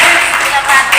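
Spectators at a district Quran-school quiz contest give a brief, loud burst of clapping for a team's result, a thick wash of hand claps lasting about a second.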